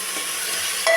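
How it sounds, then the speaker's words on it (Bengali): Chunks of potato, papaya and carrot are stirred in a pan for a home-cooked chicken stew, giving a steady soft scraping with a faint sizzle underneath, ending in a brief louder clatter, no voices. "দিয়ে আমি এখন ভালো করে নাড়িয়ে নেব"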